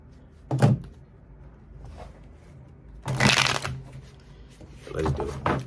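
A tarot deck is shuffled by hand in three separate bursts of riffling, a brief one early, a longer crisp flurry in the middle and another near the end, with quiet pauses between.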